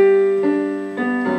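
Piano plays the opening section of a song with both hands, a few sustained notes and chords changing twice over a short phrase, close and clear with no talking.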